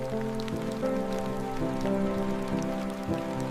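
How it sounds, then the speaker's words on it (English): Steady rain falls in a wild river channel, a dense continuous patter of drops on surfaces, moderately loud and alone with no voices. "The rains arrive a few days later"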